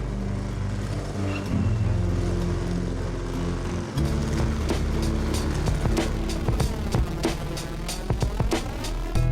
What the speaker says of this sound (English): The Le Mans start for the 16-lap 2-rider relay race saw a brilliant getaway by Jeremy McWilliams on the number 7 Manx Norton